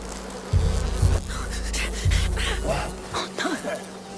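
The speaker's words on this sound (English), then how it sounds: "No, watch out for the bees!" Bees swarm and buzz in A Plague Tale: Requiem, a loud low drone that surges in bursts, with shouting character voices and game effects over it.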